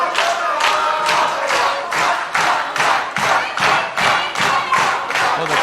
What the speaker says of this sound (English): You can hear that Zack chant.